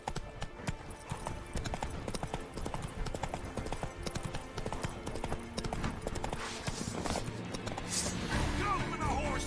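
Rapid hoofbeats of a galloping horse in The Witcher 3 over a busy game soundtrack, with music and effects, a brief whinny near the end.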